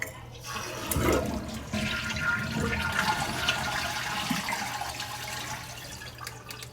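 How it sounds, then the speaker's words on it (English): A toilet with a newly replaced fill valve flushes, its tank draining in a loud rushing gurgle of water that starts abruptly after a second, then settles into a steady trickling refill, close by and without talk. "So I'm gonna actually drain it one more time and adjust that up a little bit."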